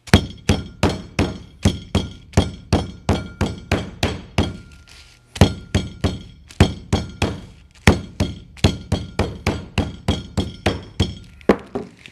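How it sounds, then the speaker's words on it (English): A meat mallet pounds a piece of veal to tenderize it: rapid, evenly spaced heavy thuds close by, one run of blows, a brief pause, then another steady series. "We now have a very nicely tenderized, pounded piece of veal."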